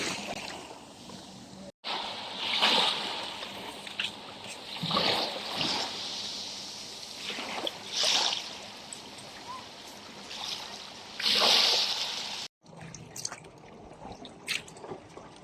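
People wade and splash in clear water at a bathing spot in Oman, sending out irregular bursts of splashing and sloshing over a steady watery background with no talk.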